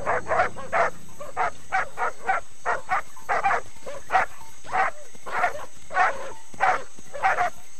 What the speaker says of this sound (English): These feisty guard dogs are far more dangerous than they seem.